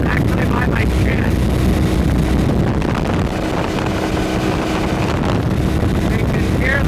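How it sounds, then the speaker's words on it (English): Heavy wind turbulence buffeting a helmet while riding a BMW F800GS behind its stock windscreen, a loud continuous roaring rush with gusty fluctuations and engine drone beneath, close to the microphone. "You can hear the turbulence."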